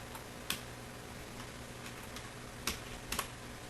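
Quiet, scattered keystrokes tap on a computer keyboard during a database tutorial, including several sharper, isolated clicks, set against a low steady background hiss with no talking.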